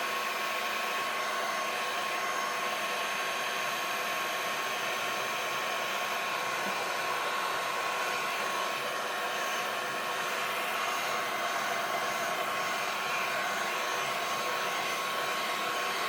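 A hair dryer blows steadily over wet craft paper at a card-making desk, a constant airy whoosh with a faint motor hum, moderately loud and unbroken.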